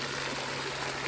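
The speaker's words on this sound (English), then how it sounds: "The water comes up and is filtered through the bottom, coming up through the PVC pipe and raining down kind of like a waterfall effect." Filtered fresh water rising through a PVC pipe and raining down like a small waterfall into an Aldabra tortoise pool, a steady, even splashing hiss close by with no voices.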